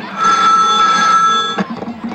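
A telephone rings in a comedy sketch performed at a school annual function, a steady electronic ring filling the first second and a half before cutting off into a brief murmur of voices.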